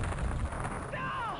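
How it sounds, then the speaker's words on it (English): A grenade goes off in the OpenXCOM video game running a 40K ROSIGMA mod: a pair of deep, thudding booms, then a thin, rising whistle as the blast fades. "these guys can throw their grenades"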